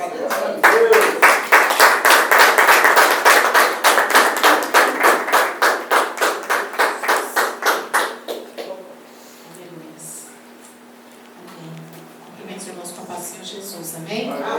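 A church congregation claps in unison, a loud steady rhythm of sharp hand claps for about eight seconds that slows and fades out, followed by quieter murmuring voices.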